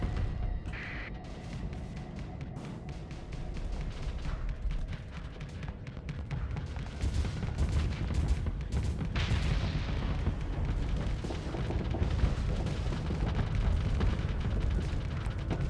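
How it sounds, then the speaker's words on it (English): Missiles are fired in a space battle in the video game Starsector, producing a dense run of booming launches and explosions that roll on loudly and continuously, with bursts layered over each other. "Fires the missiles."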